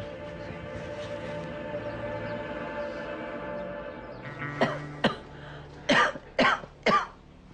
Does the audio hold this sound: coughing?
yes